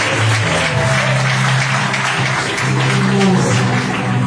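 Congregation applauding at a church youth gathering, loud dense clapping close by with a low hum and some voices mixed underneath.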